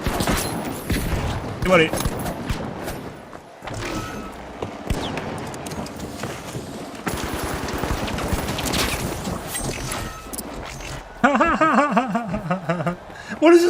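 Bursts of gunfire crackle through a match of the video game The Finals, mixed with other game noise, while someone talks and chuckles over it; the shots sit mostly in the background.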